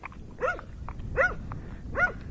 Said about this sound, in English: Look at the Rottweiler. He's like, are we supposed to keep barking?